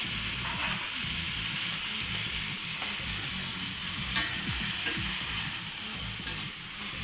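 Brinjal, potato and carrot pieces sizzling steadily in a hot pan for a moong bean dal with soya, a continuous close frying hiss with light stirring scrapes throughout.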